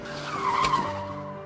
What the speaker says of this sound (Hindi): आयुष ने गाड़ी उसके पास रोकी